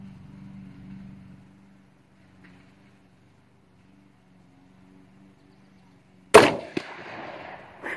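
A single sharp crack from an FN Sako .22-250 rifle fired at a steel plate 125 yards off, followed by a faint metallic ping and a brief tail, after a quiet low hum.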